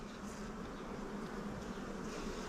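Honey bees hum and buzz steadily over a hive frame of stored honey and brood being inspected, a dense close drone that holds without pause.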